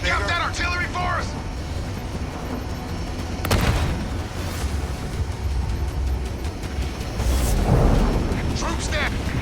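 Deep booming blasts of artillery fire in the Halo Wars video game, two or three heavy impacts spaced several seconds apart under a constant battle roar, with radio voices talking over it.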